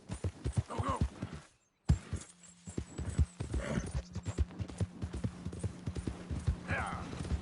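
Hoofbeats of a horse galloping in Red Dead Redemption 2 keep up a steady clip-clop rhythm, with a brief whinny, a short drop-out, and a voice urging the horse on over the hooves.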